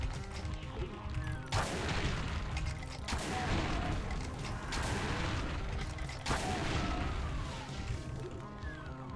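Gunfire rips through a modded Doom game session in a few heavy bursts of crashing shots, with explosive impacts over a dense, busy game soundscape.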